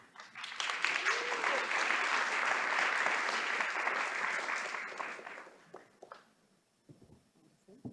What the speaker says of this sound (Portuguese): Por favor, Adriana, palmas, Adriana.